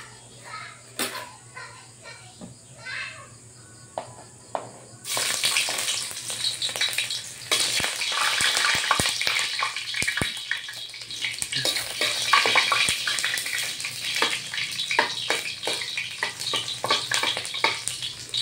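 Ginger dropped into a hot frying pan for cooking fish bursts into a loud, crackling sizzle partway through, following quieter kitchen sounds and voices, then keeps spitting and popping steadily.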